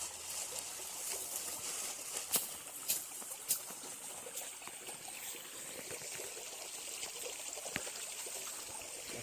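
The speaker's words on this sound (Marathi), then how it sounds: "ही पण नदीच आहे." A river in a Konkan village flows along in a soft, steady rush of water, faint and continuous, with a few light splashes and knocks scattered through it.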